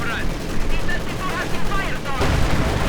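Gunfire in Company of Heroes 2 during a Panzer IV engagement: a continuous wash of battle noise with dense shots and a louder burst near the end.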